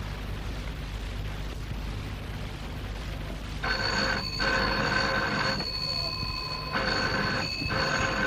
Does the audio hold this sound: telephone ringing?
yes